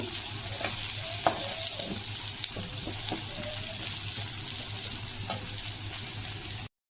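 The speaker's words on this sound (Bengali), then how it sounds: "হ্যাঁ, কুমড়োটা আমি একটু ভাজা ভাজা করছি" Pumpkin and soybean fry in a pan with a steady, close sizzle, broken by a few sharp clinks of a stirring utensil; no one speaks.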